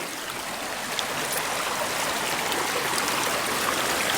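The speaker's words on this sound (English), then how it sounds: "The river is just so beautiful." A river stream on a nature walk flows in a steady, even rush of water, with no pauses or other sounds.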